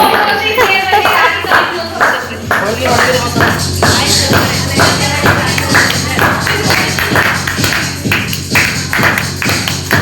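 People at a college freshers' party clap in a steady rhythmic beat, loud and close, while voices talk and call out over the clapping.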